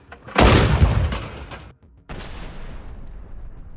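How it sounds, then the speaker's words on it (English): A loud, close gunshot cracks out with a long echoing rumble, then a second blast follows after a short silence, from Russian artillery or special forces fire on Ukrainian mortar positions. "Выстрел!"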